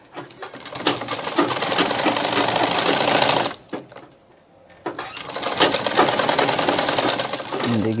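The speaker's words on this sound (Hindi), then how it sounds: "अब इस पे डबल स्टिचिंग करूँगा मैं।" An electric sewing machine runs steadily, double-stitching a folded half-inch bone strip on a lehenga, with a short pause midway before the loud, continuous stitching resumes.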